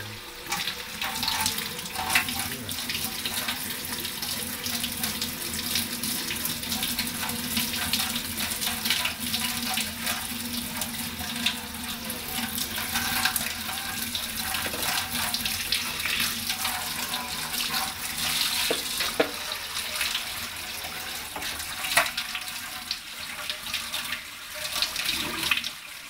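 Water pours steadily into a bucket for a long stretch, a continuous splashing rush that stays fairly loud and close throughout, with no talking.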